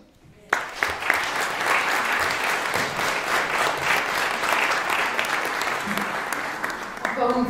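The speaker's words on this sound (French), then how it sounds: "Encore une fois, s'il vous plaît, sous vos applaudissements, Monsieur Kitoko." An audience breaks into sustained applause at a cultural event honouring Lumumba, loud and steady, with a few brief voices near the end.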